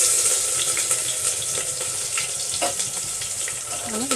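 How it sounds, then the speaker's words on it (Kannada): Onions fry in a spoonful or two of oil in a pan, a close, steady sizzle with soft clinks and stirring scrapes throughout and a brief tonal squeak near the end. "ಒಂದೆರಡು ನಿಮಿಷ ಈ ಥರ ಇದನ್ನು ಫ್ರೈ ಮಾಡ್ಕೊಳ್ಳೋಣ."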